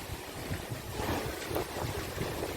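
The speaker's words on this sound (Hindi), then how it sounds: "कितनी तेज़ हवाएं चल रही है। आपको आवाज़ सुनाई दे रही होगी।" Strong wind roars steadily against the microphone, a dense, rushing blast that swells and gusts throughout with no voices.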